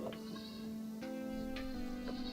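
Goats browsing brush on a bluffside paddock, bleating several times in short calls over a steady low drone, fairly close and alone without talk.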